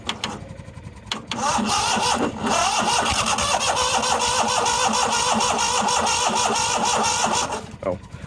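The engine of a neglected 1998 Yazoo YTKC22 three-wheel mower cranks with a starter for several seconds, a loud, rhythmic churning that turns over without catching, followed by a pause and voices nearby.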